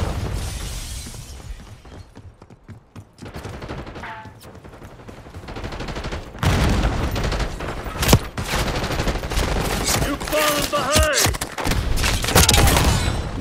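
Gunfire in a Call of Duty Black Ops 6 multiplayer match: bursts of rapid automatic fire and sharp single shots with impacts and clatter, building from quieter moments into dense, loud exchanges, with voices heard among the shooting.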